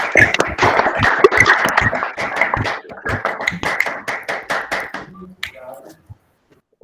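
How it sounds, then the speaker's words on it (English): Webinar participants clap hands over open microphones, a run of sharp, fairly close claps and taps in uneven rhythm that thins out and stops near the end. "please clap hands for Daniel's presentation"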